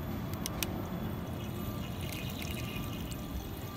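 Running tap water pours onto a scuba mask in a steady, close splashing stream with a few brief spatters, heard alone without talk.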